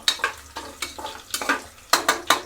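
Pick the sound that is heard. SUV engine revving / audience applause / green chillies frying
green chillies frying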